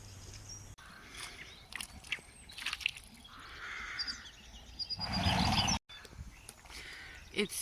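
Scattered bird chirps and tweets ring out outdoors in early spring while horses are let out, amid rustling and handling noises, with a louder burst of clatter partway through.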